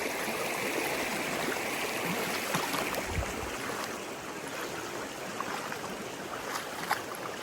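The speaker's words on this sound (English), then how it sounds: "This creek." A flowing creek with big rocks in it, a steady, close rushing and burbling of water that carries on without pause, with no voices.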